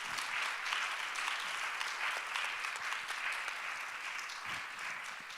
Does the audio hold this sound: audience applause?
yes